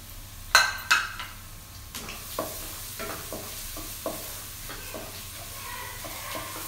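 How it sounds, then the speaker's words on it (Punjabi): Finely chopped garlic dropped into hot cooking oil for a vegetable soup gives a couple of sharp hits, then a steady soft sizzle with occasional light stirring clinks, close by. "ਤੇਲ ਗਰਮ ਹੋਣ ਤੋਂ ਬਾਅਦ ਮੈਂ ਲਸਣ ਪਾਵਾਂਗੀ।"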